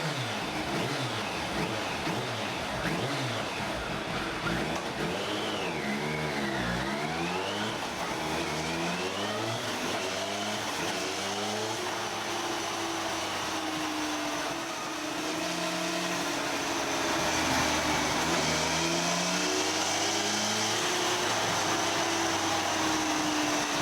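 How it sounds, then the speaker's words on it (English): A derestricted motorbike engine runs on a dyno, droning loudly and steadily while it is revved up and down in repeated rising and falling sweeps, with no talking. "Okay, let's fire it up."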